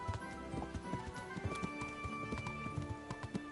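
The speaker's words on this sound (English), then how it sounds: "why I'm riding the horse into Ratay" Horse hooves clop steadily at a riding pace in the medieval video game Kingdom Come: Deliverance, the footfalls mixed over a layer of sustained background music with no talking.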